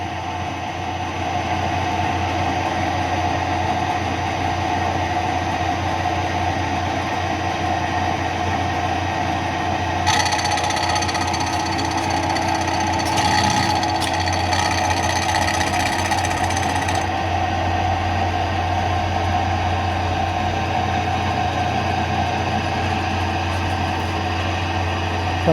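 A Kearney & Trecker Model 2D rotary head mill performs orbital surfacing, producing a loud, continuous machine drone with steady hum and grinding, and a brighter hissing cut that intensifies for several seconds in the middle.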